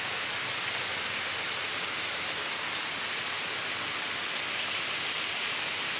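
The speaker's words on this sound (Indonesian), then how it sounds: "saya berteduh sudah hujanan mang. Iwan." Steady heavy rain pours down continuously on an abandoned, long-unused house, a dense, loud hiss of downpour with no voices or breaks.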